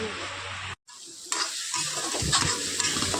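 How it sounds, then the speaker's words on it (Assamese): Meat curry cooking with a little spice, onion and ginger-garlic paste sizzles in a pan. After a brief cut to silence, close stirring scrapes and clatter of a utensil return over the sizzle. "অলপ মছলা দি তাকে ভালদৰে সিজাই আছোঁ"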